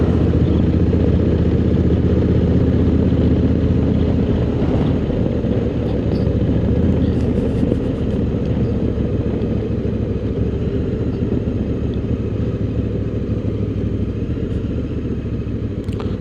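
A 2024 Honda Africa Twin motorcycle rides at night, a loud continuous low engine drone with road and wind rumble throughout, steady with no pauses and no voices.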